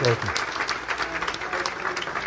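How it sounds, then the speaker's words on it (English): Steady applause from a crowd fills the clip, a dense patter of clapping that continues evenly throughout at moderate volume. "Let's give us a round of applause."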